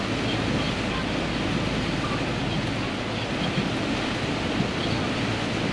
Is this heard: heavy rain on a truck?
yes